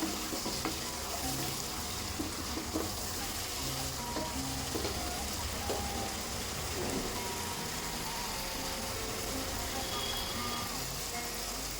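Spice paste for a pumpkin curry sautéing in oil, a constant moderate sizzle with scattered scraping stirs and faint background noises throughout.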